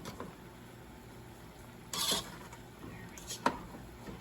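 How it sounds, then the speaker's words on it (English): Cooked rice being mixed in a pot with a fork, soft scraping and a few light clinks of metal on the pot, close and fairly quiet over a faint background hum. "Use a fork with rice."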